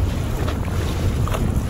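A small motorized quad-style watercraft runs steadily across open water under power, its low continuous motor drone mixed with heavy wind buffeting and splashing, loud and close with no talking.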